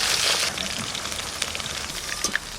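Fish coated in mustard oil frying slowly in a pan over a low flame, a steady soft crackling sizzle with a few louder pops, close and continuous with no talk.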